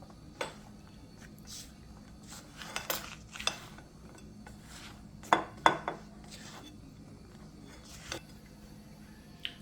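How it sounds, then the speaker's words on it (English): Dry fruits are combined with flour in a mixing bowl for a vegan fruit cake loaf, giving scattered clinks and knocks of a utensil against the bowl, irregular and close, with quiet gaps between. "We're going to combine the dry fruits with the flour."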